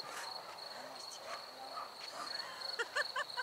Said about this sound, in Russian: Сверчки везде так сверчат.